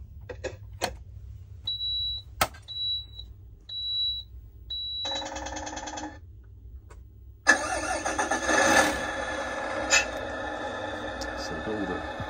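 A modified Tamiya 770 8x4 RC truck's electronic sound unit beeps several times, then fires up a simulated diesel engine that settles into a loud, steady idle, close by.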